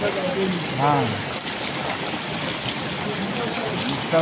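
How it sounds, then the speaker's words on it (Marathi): Heavy monsoon rain falling over farm fields with running water, a broad steady wash of noise throughout, with a voice speaking over it. "एकदम पाऊस भरपूर चालू आहे"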